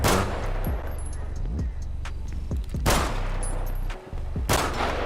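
Gunfire in the battle royale game PUBG: loud, repeated shots and bursts crackling across the moment, some sharp and close, with a brief lull before the firing resumes.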